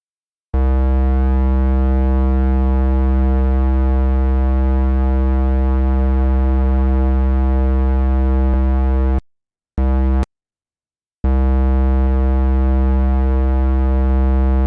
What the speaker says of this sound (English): it's kind of like a chorus, but it's a micro delay chorus with a variable number of voices